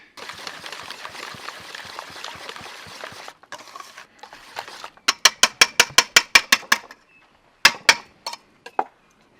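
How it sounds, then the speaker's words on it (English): Vegan brownie batter stirred in a bowl after coffee is added to the wet ingredients, heard as a soft scraping mix followed by a close run of about a dozen quick, sharp rhythmic taps and clicks, then a few more. "we're going to give it a good stir."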